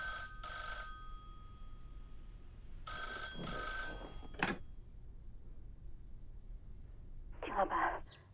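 A telephone rings in short bursts, two clear rings separated by a pause, followed by a brief thump like a door and a faint clatter near the end, with quiet background between.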